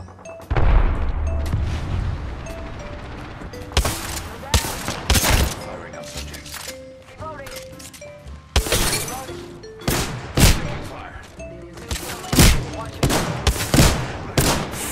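Automatic shotgun fire in the Apex Legends video game: loud, close bursts of rapid blasts with sharp impacts and gaps between volleys, mixed with game effects and occasional talk.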